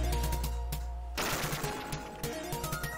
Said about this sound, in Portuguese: tem alguém que tá atirando aí